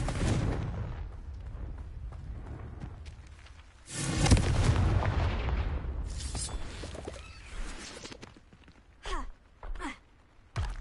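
A Confringo spell blast in Hogwarts Legacy: a loud, broad booming burst that swells and rolls for about a second before trailing off, followed later by a few shorter thumping impacts.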